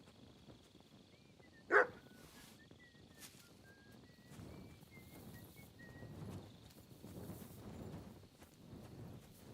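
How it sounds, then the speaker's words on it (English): A dog gives a single sharp bark early on in the medieval role-playing game Kingdom Come: Deliverance 2, followed by soft footsteps and faint ambient game noise. "You silly doggy."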